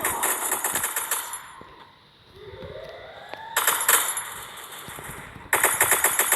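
Loud rapid automatic gunfire from a video game comes in long bursts, broken by a brief lull carrying a rising synthetic tone before the shooting resumes twice.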